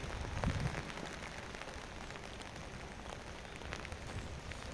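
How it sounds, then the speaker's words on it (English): Rain falls steadily at the Medjugorje sanctuary on a wet day outdoors, a soft, even hiss of drops on the ground, fairly quiet, with a brief louder patter near the start and no voices. "And it's a rainy day at the sanctuary."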